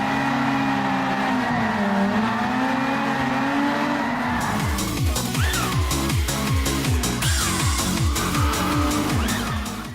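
Car drifting in the racing video game Inertial Drift, with a steady engine drone and repeated sliding tire squeals that sweep up and down across the second half, loud and continuous with no talk.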